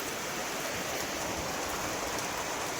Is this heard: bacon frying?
no